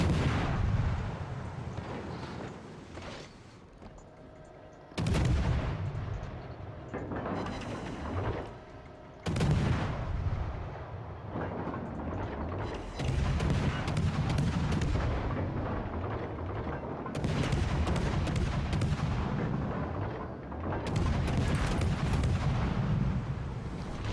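Naval gunfire from 5-inch guns in the World of Warships Legends game, heard as several loud, heavy booming salvos with rumbling tails, spaced a few seconds apart.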